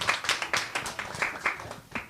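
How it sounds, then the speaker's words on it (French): Small audience clapping to welcome a guest speaker at an evening talk, a sparse, uneven patter of hand claps with individual claps clearly separated, fairly close. "Et on peut l'applaudir quand même."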